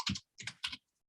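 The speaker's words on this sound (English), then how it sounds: "So I'm going to go ahead and type in an email address that I use" Three quick bursts of keystrokes on a computer keyboard as an email address is typed, crisp and close, each flurry separated by a short pause, with no talking.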